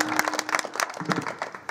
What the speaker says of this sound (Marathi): या जोडी करता एकदा टाळी वाजवा